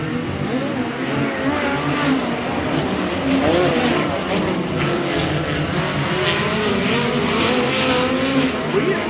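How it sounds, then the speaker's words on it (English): POWRi West Midget League race cars roar around the Airport Raceway oval under green flag, their engines overlapping in loud, rising and falling howls as they pass close by, with a commentator's voice faintly underneath. "Back to green flag racing off of turn number 4."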